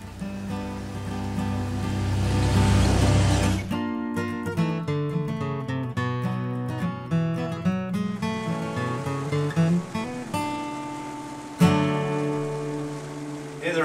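Steady rain hisses loudly through the first few seconds on a cloudy day outdoors in Upper Michigan, then cuts off as music takes over for the rest.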